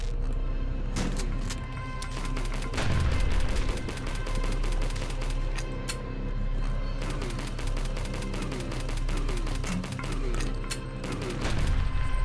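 An enemy in the video game HROT fires explosive rounds, heavy bursts and booms recurring over a dense, rumbling game soundscape on hard mode.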